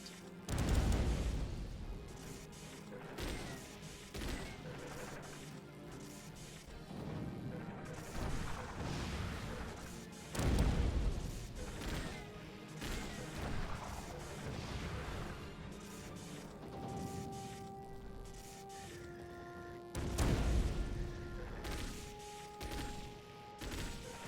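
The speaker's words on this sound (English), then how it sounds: "let's just keep shitting out these bombs" Bombs go off in repeated heavy booms in the mech combat game Chromehounds, with deep thuds every few seconds over a continuous rumbling battle bed and sustained tonal hums later on.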